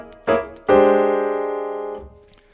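Two short jazz comping piano chords are followed by a longer sustained voicing that resolves down to a minor 6 chord. It rings clearly for over a second before being cut off, with no talking.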